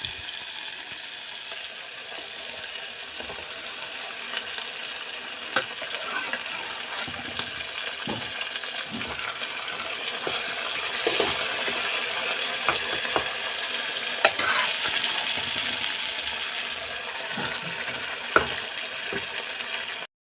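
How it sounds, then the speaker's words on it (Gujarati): Dal (lentils) tipped into a pot and stirred give a steady, close wet hiss and rustle, broken by small clicks and scrapes throughout. "હવે આપણે દાળ એમાં એડ કરી દઈશું"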